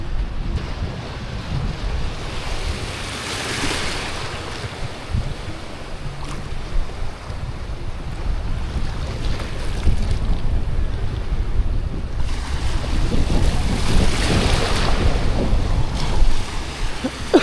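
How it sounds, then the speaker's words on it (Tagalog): Ocean waves surge and wash in strong wind, with steady gusty wind noise buffeting the microphone and two louder swells rising and falling. "Grabe yung alon ngayon, no?"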